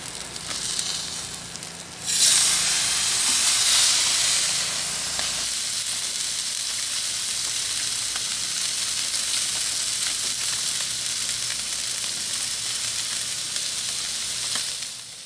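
Salmon fillets sizzling on a Ninja Woodfire grill, a steady close hiss that flares loudly for a few seconds near the start, then settles into a constant crackling fry.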